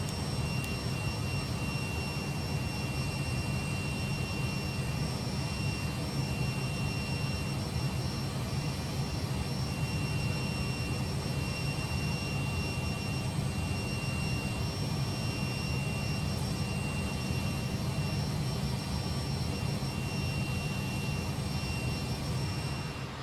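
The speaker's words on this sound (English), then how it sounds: "you can see and hear a drop of RPM from both engines when the anti-icing systems are switched on" Twin jet engines of a Fokker F28 airliner in a flight simulator drone with a steady, even whine and low roar, tonal hum held constant throughout, with no talk.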